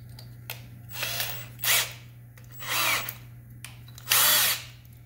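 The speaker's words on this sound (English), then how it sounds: "Put it on the old drill here." An old power drill spins a hone inside a brake master cylinder from an International pickup, running in four short whirring bursts with pauses between and a steady low electrical hum underneath.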